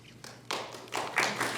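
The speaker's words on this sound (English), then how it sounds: "Yeah, that's worth applauding." A few scattered, quiet claps from a small audience at a talk honouring a Washington State insurance commissioner, coming in short bursts rather than sustained applause.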